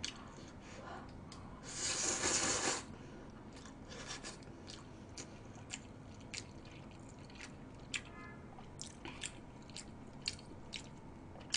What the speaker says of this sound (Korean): 저 쩝쩝거립니다